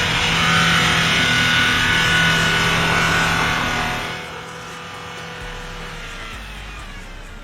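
Car in sand mode revving hard as its tyres spin while climbing a snowy slope, a loud strained engine roar that drops to a quieter, more distant drone about halfway through.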